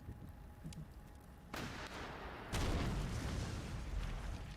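Tank gun fire in a WW2 strategy video game: two booming blasts roll out in sequence, each followed by sustained rumbling that stays loud and wide to the end; no speech.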